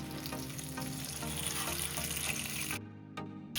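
Salmon fillet, skin side down, sears in a pan over high heat with a dense, continuous crackling sizzle that cuts out abruptly near the end before a short burst resumes.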